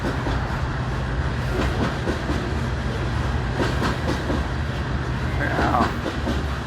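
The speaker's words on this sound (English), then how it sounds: "that other train is going up to Sioux City" A BNSF freight train rolls past at a wye near Ashland, Nebraska, a steady loud rumble with rhythmic wheel clatter and hiss throughout, fairly close.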